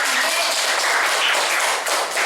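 A classroom of children claps together, a dense, bright wash of many small hands that stays loud and continuous for a couple of seconds without speech.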